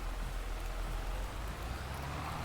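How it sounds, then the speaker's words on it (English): Steady rain in a farming and homesteading video game set in Silverrun Forest, a faint, even hiss of falling drops with a low rumble underneath, continuous and without talk. "it is still raining on us here"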